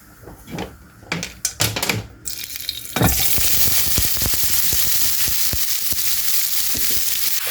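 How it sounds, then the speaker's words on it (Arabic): Chopped onions hit a little hot oil in a pan on the stove and break into a loud, steady sizzle after a few clattering knocks of the pan and utensils. "في مقله فوق النار غادي ندير قليل من الزيت، غادي نضيف عليه البصل اللي شلضناه"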